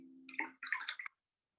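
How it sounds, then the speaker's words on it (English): A watercolor brush dips into a water dish and scoops water, giving faint, close splashy swishes and a soft drip over about a second. "I'm just going to come into my water dish, and I'm going to scoop 4 brushfuls of water into my mixing area."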